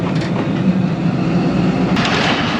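Ravi Express passenger train on the Shorkot branch line in Pakistan: a loud, close, continuous rolling rumble with rhythmic clickety-clack from the wheels and no voices.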